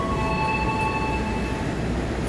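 Sancaka passenger train rolls into track 5 of a busy station, arriving from the Surabaya direction: a steady, loud rumble of wheels and carriages with faint high tonal whines running through it.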